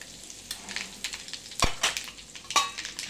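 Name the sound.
mustard seeds and asafoetida sizzling in hot oil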